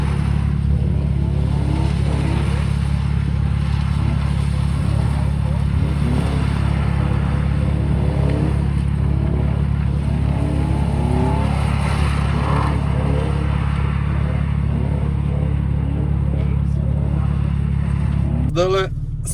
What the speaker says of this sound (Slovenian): Po Legend Carsih nas je pa čakal še tale drift session po tejle zmočeni progi.